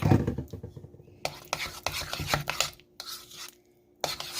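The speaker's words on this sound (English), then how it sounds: "Stir it up really, really good where you can't see any of the mayonnaise or the mustard showing" A spoon works mayonnaise and mustard into mashed deviled egg yolk filling, making close, uneven scraping and squishing strokes against a bowl with brief pauses between them.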